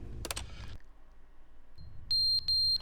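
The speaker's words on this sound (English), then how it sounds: "The fire alarm's going off." A shrill electronic fire alarm in The Stanley Parable sounds in two loud, sustained bursts, with short gaps between them, after some muffled clatter and a stretch of near silence.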